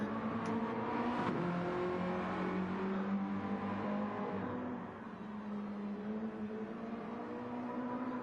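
Mazda MX-5 Roadster touring car in Gran Turismo 7 braking hard into a right-hand corner, a steady loud engine drone with a dip as revs fall, then continuing at an even pitch with no voices.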